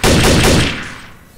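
A loud burst of rapid automatic gunfire from the shooter game Trouble in Terrorist Town, several quick shots in succession that fade out within about a second, heard alone without talk.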